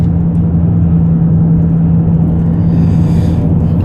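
Lexus LS400 driving on the road, with a steady low engine and road rumble, a constant hum throughout at close range inside the car, no talking.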